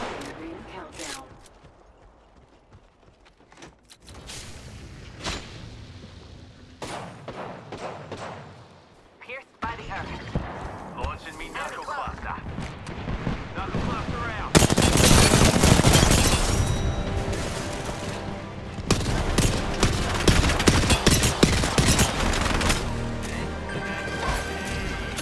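Gunfire and explosions from the video game Apex Legends in a trio match, sparse at first then building into dense, loud bursts of shooting and impacts that run nearly continuously through the second half.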